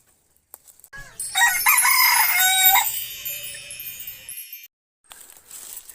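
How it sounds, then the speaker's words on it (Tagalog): A red junglefowl (labuyo) rooster, newly caught, lets out one loud, close crow lasting a few seconds, with faint rustling before it and a brief quieter sound after. "nakahuli tayo ng labuyo na walang pangati mga ka-hunter"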